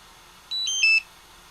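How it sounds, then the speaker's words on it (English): Several electronic devices beep in a short burst of high, steady tones, a quick cluster of overlapping bleeps against a quiet background with no talking. "Now they're just doing beep, beep, beep."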